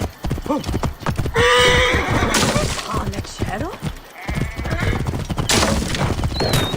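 Rhythmic hoofbeats clatter steadily as a horse runs in Assassin's Creed Origins, with occasional whinnies and shouted voices over the galloping.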